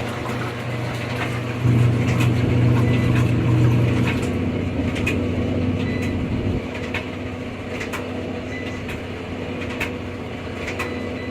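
A Speed Queen washing machine fills with cold water for a large load of jeans, a steady rushing and humming drone with a louder low tone for a few seconds midway before settling back.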